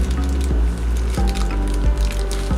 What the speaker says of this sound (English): the bag is sealed very tightly with the parts, so I think I'll open at the end of the plastic bag.